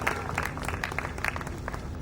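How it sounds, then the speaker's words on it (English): A short burst of scattered clapping from an audience at a book launch, brief and moderately loud with individual claps standing out above a low background hum. "Guys, a big round of applause for them."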